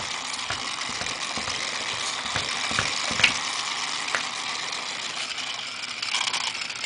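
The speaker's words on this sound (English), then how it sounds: "it's a slow speed motor and it won't go that fast." Lego pneumatic motor running slowly, a steady mechanical whir with rhythmic air puffs and clicking, fairly close and unaccompanied by talk.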